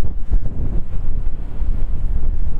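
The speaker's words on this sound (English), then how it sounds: "It's a bit breezy and a bit misty" Strong wind buffets the microphone on a misty mountain summit in Scotland's Bidean nam Bian, a steady low rumbling roar with gusty swells and nothing else heard.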